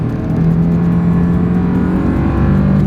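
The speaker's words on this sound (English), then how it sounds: "let's see how quickly we can get our new 2025 Toyota Land Cruiser here up to speed" A 2025 Toyota Land Cruiser SUV in sport driving mode accelerates hard, and a loud, steady engine drone and whir rise up close with no talk.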